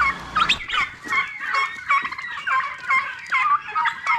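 Turkeys at a farm gobble in a steady, overlapping chorus, with loud, close, warbling calls repeating about every half second and no talking.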